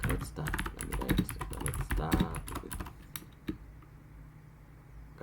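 Computer keyboard typing during a Python coding lesson, rapid close clatter of keystrokes that thins to a few scattered taps, with a voice talking over the first half.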